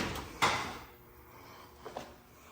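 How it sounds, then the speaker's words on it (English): A car door on a badly damaged Camaro swings shut without latching, a single sharp knock followed later by a softer double thud, in a quiet garage. "that door doesn't latch"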